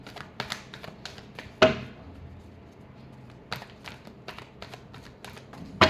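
Tarot cards being shuffled for a weekly reading: a quick run of light riffling taps and clicks, with a sharp slap as the deck is squared and a few more soft card snaps near the end, close and fairly quiet.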